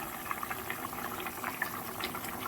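Rohu fish curry with potatoes and pointed gourd simmering in a pot, a steady low bubbling with soft scattered pops, close and continuous with no talk.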